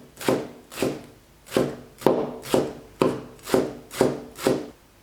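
A knife chops a bunch of washed, drained Chinese chives on a board, striking about ten times in a steady, even rhythm. Each stroke is a crisp close thud with a short scraping tail.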